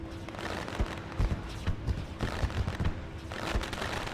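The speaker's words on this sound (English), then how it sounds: "I have fireworks at both sides of the racetrack." Fireworks burst on both sides of a dirt racetrack before a UMP Modifieds race at Knoxville, a steady crackle of scattered pops and thumps over a broad, continuous crowd-and-engine roar.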